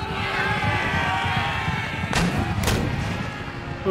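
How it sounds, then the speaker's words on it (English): Cannons firing at point-blank range in the strategy game Empire: Total War during a siege of Copenhagen, two sharp, loud blasts in quick succession over a rumbling battlefield din. "you've turned your guns, firing at point blank range"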